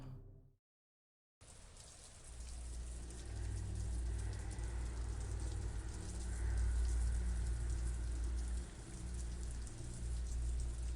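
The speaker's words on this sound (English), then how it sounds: "Poisonous rain in the theatre?" Steady, loud poisonous rain in the video game Tales of the Black Forest, starting abruptly after a brief silence and pouring continuously as a dense hiss over a low rumble, with no talk.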